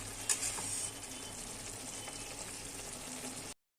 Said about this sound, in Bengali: নামানোর আগে একটু সর্ষের তেল দিয়ে দেবো